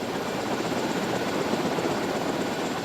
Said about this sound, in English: the helicopter takes up the pursuit.